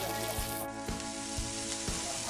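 Thick pork belly sizzles on a grill plate, a bright steady hiss of frying fat with a few soft taps from tongs, at close range and with no talk.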